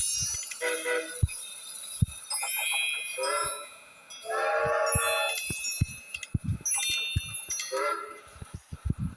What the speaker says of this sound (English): Oh, slow train coming in too.